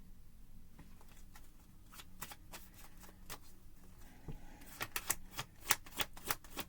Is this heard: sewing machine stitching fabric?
no